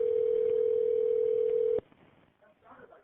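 Steady electronic telephone tone during a 911 call transfer, holding for nearly two seconds before stopping abruptly and giving way to faint line noise and a brief murmur of voices.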